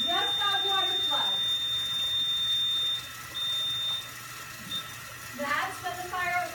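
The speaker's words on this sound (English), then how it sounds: "Now, that should be our water flow alarm ringing in." A high-pitched electronic fire-system water flow alarm rings continuously, then cuts in and out, while a person talks over it nearby.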